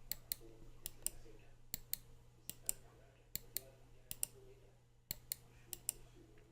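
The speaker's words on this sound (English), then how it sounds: "I'm gonna put it up to the mic so you guys can hear what it sounds like" Zowie FK1+ gaming mouse left and right buttons clicked close to a microphone, a sharp crisp click pairs repeating in a steady rhythm over a faint background hum.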